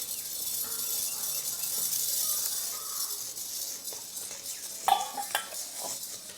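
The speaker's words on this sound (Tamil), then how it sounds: "அடுத்தது 500 கிராம் கடலைப்பருப்பு எடுத்துருக்கோம், அதையும் வறுத்து எடுத்துக்கலாம்" Chana dal dry-roasting in a pan for idli powder, with faint scraping stirs, a light dry rustle and a couple of sharper clinks of the spoon against metal.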